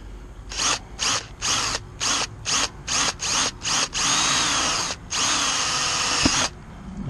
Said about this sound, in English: We're going to drill a hole in it.